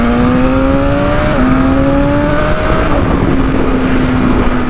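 A BMW S1000RR superbike accelerating hard, its engine note climbing in steady rising sweeps broken by quick gear changes, loud and close under constant wind roar, with no voices.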